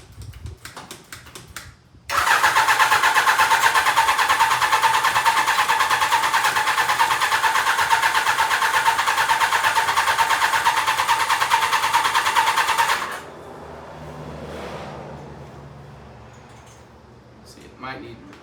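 A 1000cc trail buggy engine cranks briefly, then fires and roars loudly and steadily for about eleven seconds before cutting out, leaving quieter low mechanical sounds and faint noise.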